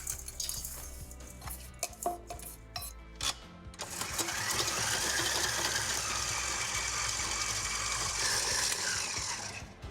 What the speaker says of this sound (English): we need to beat the butter and the brown sugar